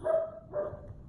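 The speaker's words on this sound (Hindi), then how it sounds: "कुत्ते की आवाज़ ना इतनी डेंजर है ना।" Dogs bark twice in quick succession at the Egypt pyramids replica in Bangladesh, two fairly loud, close woofs with a low rumble of background noise beneath.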